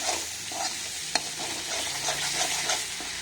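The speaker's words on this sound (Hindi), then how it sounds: "ये देखिए मसाला हमारा भून चुका है।" Masala roasting in a pan for a homemade matar paneer curry, a steady close sizzle and fry hiss with scraping stirs throughout and one sharp utensil tap partway through.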